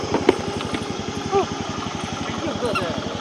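A motorbike engine putters at idle with a fast regular thump, then pulls away to be parked at a temple, fairly close and steady, with brief voices and chirps over it.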